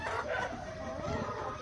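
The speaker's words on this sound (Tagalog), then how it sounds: "Ito mas bata yung tandang." A young rooster, about eight to nine months old, clucks close by in a short run of throaty calls with no voices.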